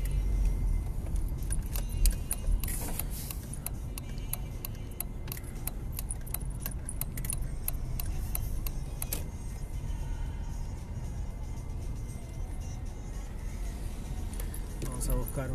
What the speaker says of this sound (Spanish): Vamos a buscar un lugar bueno para dejar el auto.